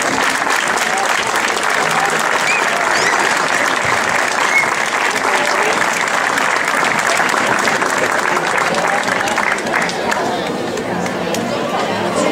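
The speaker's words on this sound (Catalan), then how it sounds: "Moltes felicitats i un fort aplaudiment." Loud, dense applause from an audience at a band gathering in Xeresa, saluting a band's performance, sustained steadily for the full stretch with a crowd murmur underneath.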